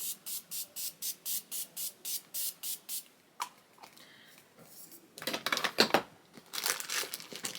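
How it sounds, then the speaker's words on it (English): Morphe Continuous Prep and Setting Mist sprayed in a rapid series of about a dozen short, evenly spaced pump hisses close up, followed by quieter rustling and handling noises. "And then I'm gonna go ahead in with my Morphe Continuous Prep and Setting Mist."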